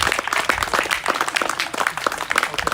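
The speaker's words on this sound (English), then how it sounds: "Put your hands together." A crowd applauds after a house sells at a live auction on Garnett Road in Wheelers Hill: steady, fairly close clapping from many hands, continuous throughout with no voices on top.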